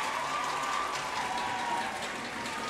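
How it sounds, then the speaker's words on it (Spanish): Steady applause from an audience at a regional provincial final, welcoming student participants as they step onto a stage; dense, continuous clapping that fills the whole stretch at an even level. "Fuerte el aplauso para estos chicos."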